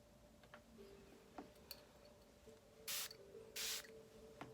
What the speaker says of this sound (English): I spray you now with the silver moon mist